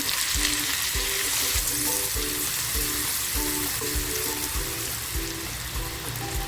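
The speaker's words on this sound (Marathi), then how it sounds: "सेम पॅनमध्ये तेल टाकते तेल छान तापले कांदा टाकते" Onion dropped into hot oil in the same pan used for okra, frying with a dense, loud, continuous sizzle and a faint rhythmic scraping of a spatula underneath, with no voices.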